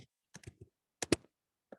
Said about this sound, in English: I'm just typing, we'll talk about as we type through